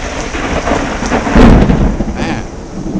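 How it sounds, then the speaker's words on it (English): A summer thunderstorm in North Jersey, with heavy rain pouring steadily and a deep rumble of thunder that swells midway, heard close and loud with no voices. "Some serious thunderstorm action going on."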